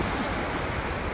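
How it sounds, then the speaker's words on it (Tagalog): Ocean waves wash along the sea in a steady broadband roar, loud and close with no distinct breaks, wind-like rushing filling the whole moment. "Ganda ng dagat."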